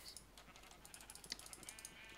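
Sheep bleating in the video game Minecraft, several short faint bleats in quick succession over a low hum, alone with no talk.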